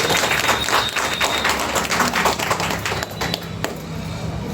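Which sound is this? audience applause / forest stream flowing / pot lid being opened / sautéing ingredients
audience applause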